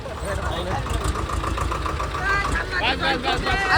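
A small tractor engine idles steadily with a low rumble throughout, close by, while people talk over it.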